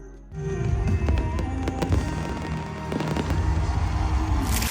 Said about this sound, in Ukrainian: А ще були салюти